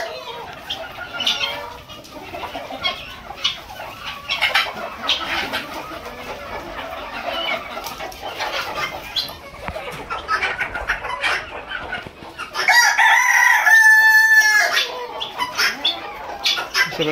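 A flock of chickens sheltering indoors from the rain clucks and squawks continuously, and a rooster crows loudly near the end.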